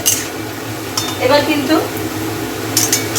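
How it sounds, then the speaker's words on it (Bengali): Onions frying in a pan sizzle steadily up close while a spatula stirs them with intermittent scraping and clinking against the metal. "দেখুন পেঁয়াজটা কিন্তু লাল লাল করে ভেজে নিয়েছি, আর একটু ভাজতে হবে।"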